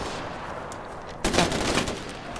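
Gunfire in the Far Cry 4 video game, starting suddenly after a quiet stretch as a rapid burst of shots that keeps rattling on loudly and close. There is no speech.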